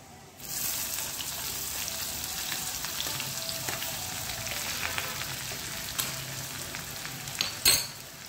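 Onions drop into a pan of browned garlic and begin frying, starting a steady close sizzle after a brief quiet start, with a few utensil knocks and clinks near the end.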